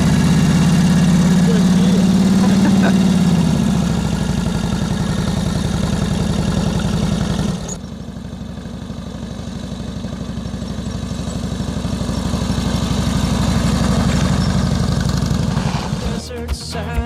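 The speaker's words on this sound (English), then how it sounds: "That's a 1942 Harley Davidson WLA with a dusting sidecar, and it's got reverse gear." A 1942 Harley Davidson WLA with sidecar and reverse gear idles close by, its steady low rumble running throughout with a dip partway through as a voice speaks over it.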